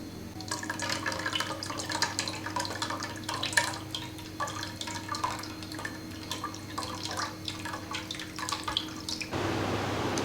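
Meat broth from chicken biryani is poured through a strainer, a soft, close trickle and patter of liquid with small drips running steadily, then ending in a quieter hiss.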